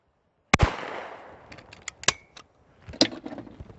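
A shotgun goes off at clay targets during clay shooting: three sharp, loud cracks spread over a few seconds, each trailing into a short decaying echo, with faint clicks and rattles between shots.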